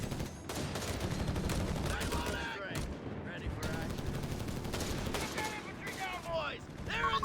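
A .30 cal machine gun rattles in Company of Heroes 3 amid dense battlefield gunfire, bursts of rapid shots layered with other weapons and effects, with a voice talking over parts of it.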